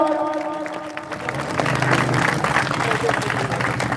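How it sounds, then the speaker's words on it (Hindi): Crowd applause and scattered cheering at a cricket league prize presentation, building under a voice on a public address system that talks through the opening and continues faintly amid the clapping. "तालियां लगा दे यार"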